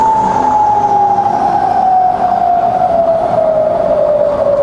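A Bridgeport milling machine runs in low range near 300 RPM, giving a steady, loud, close mechanical whine whose tone slowly drops, over a continuous motor hum.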